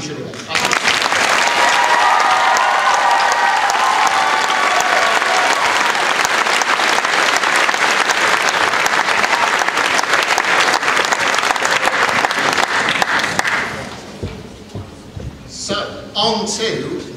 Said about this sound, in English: So it's just a relief to be able to applaud.